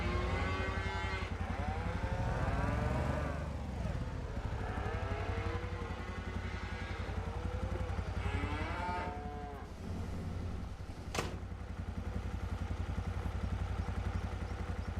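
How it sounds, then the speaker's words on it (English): Cattle in Farming Simulator 25 moo repeatedly, several drawn-out calls overlapping at close range against a steady low background hum, with no talk. "That's a lot of cows"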